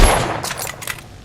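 A single loud gunshot in The Order: 1886, a heavy report at the very start whose booming tail fades away over about a second, with a couple of faint clicks afterward.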